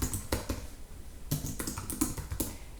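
Quiet tapping on a computer keyboard, a few scattered clusters of keystrokes at close range with no voices over them.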